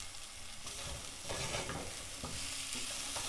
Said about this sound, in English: You can start by sauteing the onions